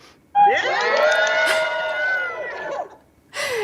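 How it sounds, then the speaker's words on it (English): An architecture team at an awards event breaks into a loud group cheer of overlapping whoops and shouts lasting a few seconds, fading out, then a short second burst of cheering follows. "Give us a cheer, guys."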